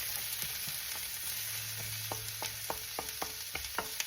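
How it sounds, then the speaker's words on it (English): Green bell pepper sautéing in olive oil for chili mac, a steady hissing sizzle with a series of soft stirring clicks that grow more frequent toward the end. "After they've sauteed in that olive oil and got coated in that for the flavor"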